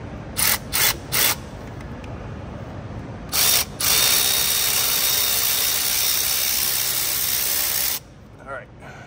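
Hand tool working a hose clamp on a diesel intake's upper hose, several short loud bursts of hissing, ratcheting noise, then one long sustained burst close up, no talk.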